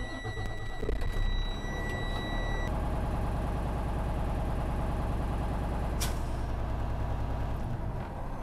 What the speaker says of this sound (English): I'm going to start my engine and fill up my tanks.